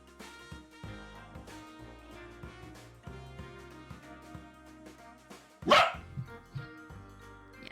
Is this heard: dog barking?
yes